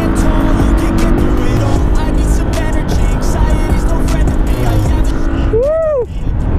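A new FKM Slick 150 motorcycle rides along at speed, its engine and road roar loud and close throughout, with someone talking over it and a rising, falling whine near the end.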